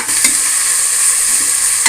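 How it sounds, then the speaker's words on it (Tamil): Onions sizzling and frying in hot oil for a capsicum vegetable biryani, a steady loud crackling hiss running continuously and close throughout with no talking. "இப்போ இந்த வெங்காயத்தெல்லாம் பொரிக்கிறாங்க"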